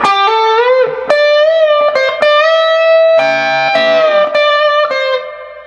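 Overdriven electric guitar phrase from a song's first solo, several picked and bent notes with sustained singing tones and a brief chordal double-stop, played loud and solo with reverb.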